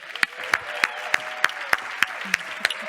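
A festival audience claps to welcome a speaker onstage, with sharp, evenly spaced claps ringing out about every third of a second over a soft, steady background.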